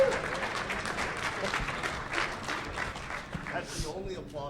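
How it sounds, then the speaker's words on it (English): A smattering of audience applause at a DEF CON conference talk, moderate and somewhat thin, with a few shouts and voices mixed in as it fades. "that's the only applause we're getting"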